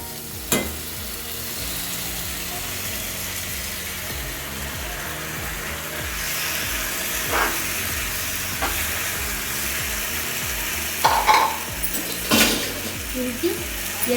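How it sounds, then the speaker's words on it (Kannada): Boiled vegetable pasta stirred into spices frying in a pan gives a steady sizzle with scraping and clinks of a spoon against the pan, close and continuous, with a few louder utensil knocks near the end. "ಚೆನ್ನಾಗಿ ಎಲ್ಲ ಸ್ಪೈಸಸ್ ಫ್ರೈ ಆದಮೇಲೆ ನಾವೇನಾಗಲು ಕುದಿಸಿ ಇಟ್ಕೊಂಡಿದ್ವಲ್ಲ ಆ ಪಾಸ್ತಾನ ಇದಕ್ಕೆ ಆ್ಯಡ್ ಮಾಡೋಣ"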